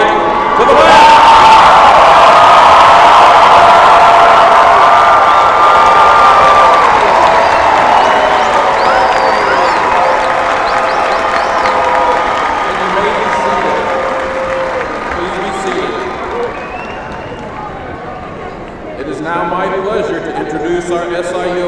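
A large commencement crowd at a university graduation cheers, whoops and applauds loudly as graduates move their tassels, a dense sustained roar that gradually fades toward the end.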